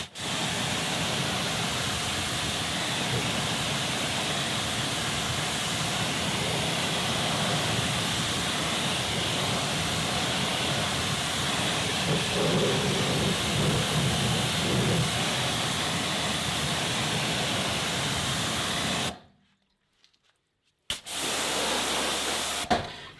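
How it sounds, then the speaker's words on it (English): A water spray rinses a car wheel with a steady, loud hiss for about nineteen seconds, stops briefly, then resumes before cutting off. "Now give the wheel a good rinse."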